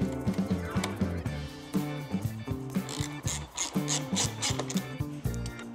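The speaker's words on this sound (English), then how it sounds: "Your 13mm wrench." A 13mm wrench tightens a nut on a GIVI motorcycle pannier mounting bracket, giving close, repeated metallic ratcheting clicks and short grinding turns in an uneven rhythm, with no talking.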